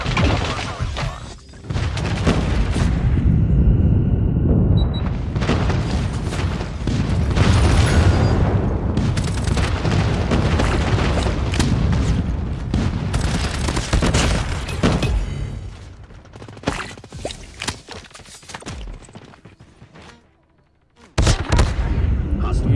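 An airstrike in a Call of Duty Hardpoint match: a dense, loud stretch of booming explosions and gunfire rolling on for many seconds, then fading to near silence before one more sharp blast.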